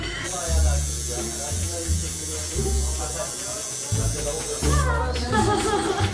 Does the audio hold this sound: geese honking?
no